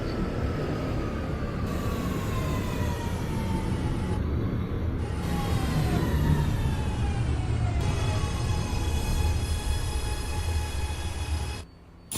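An NYC Subway R211 train in the OpenBVE simulator runs with a continuous loud rumble of wheels on rails, rising and falling motor whines and shifting tones, then cuts off abruptly near the end.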